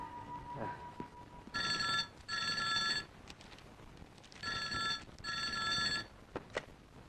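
An old-style telephone bell rings in a Kannada film scene, sounding two double bursts separated by a pause, fairly faint against a quiet room.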